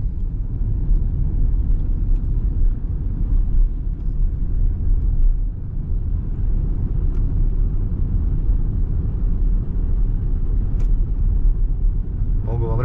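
A car merging onto a heavily used Croatian motorway toward Varaždin, heard from inside as a steady, loud low road-and-engine rumble that holds without a break.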